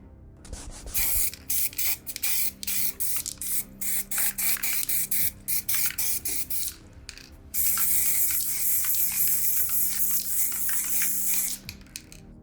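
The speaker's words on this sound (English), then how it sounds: "we're going to give these minis a quick base coat with our black spray" Black spray paint hisses in repeated short bursts while base-coating miniatures, close and loud, with brief gaps between sprays and a longer continuous spray near the end.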